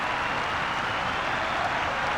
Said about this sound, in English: both teams already earning applause from the big crowd here this afternoon